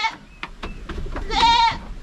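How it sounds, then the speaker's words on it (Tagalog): Goats bleat on a farm in the Philippines, near and fairly loud, with a wavering, drawn-out bleat after shorter calls and some background rustle. "Yung mga lalaki natin na kambing, yung andito."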